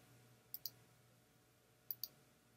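A computer mouse gives two quick pairs of sharp, close clicks, spaced over a quiet room background with a faint low hum.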